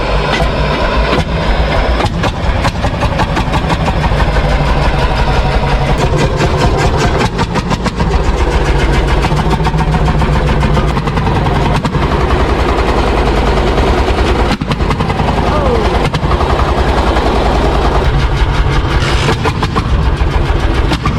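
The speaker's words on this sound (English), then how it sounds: "Hear the explosive roar of an old Landini tractor, a vintage Italian powerhouse, delivering the loudest bang at peak revs." A 1930s Landini 50 hp diesel tractor runs loud and close, its engine roaring with rapid, uneven banging beats and sharp explosive knocks throughout.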